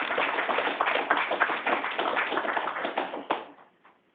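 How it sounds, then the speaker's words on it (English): Applause from an audience at a graduation ceremony for a utility helper pre-apprenticeship program, a dense steady clatter of many hands that carries on for about three seconds and then thins out. "Let's give them a round of applause"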